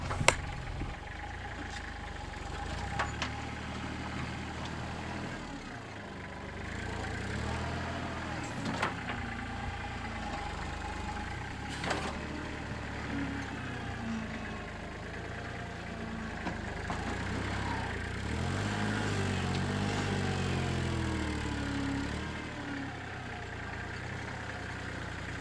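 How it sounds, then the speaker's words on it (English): A tractor works at a homestead barn build site, scooping and carrying a pile of clay. Its engine rumbles faintly and steadily in the distance, with a few soft knocks and no voices. "And here comes Dave on the tractor to scoop up a large pile and bring it over to the build site."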